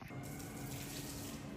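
Water gushes steadily from an opened tap, a close, continuous splashing hiss with no pauses over the short stretch.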